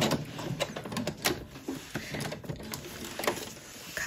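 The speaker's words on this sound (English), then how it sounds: "And then I'll do a back stitch again." A home sewing machine runs a back stitch on fabric for a book cover, a continuous rapid mechanical whirr and patter, close and steady throughout.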